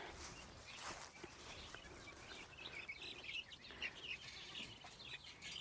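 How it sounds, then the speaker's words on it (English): Birds in a poultry pen on fresh grass chirp and tweet steadily throughout, a continuous high twittering chorus at moderate distance with no talking. "All the birds in here."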